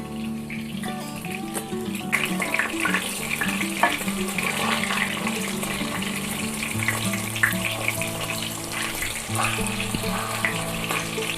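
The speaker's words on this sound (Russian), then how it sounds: "Вот у нас уже жарится вторая партия." Meatballs sizzle in sunflower oil in a frying pan, a steady crackling hiss with small pops running throughout alongside a low hum.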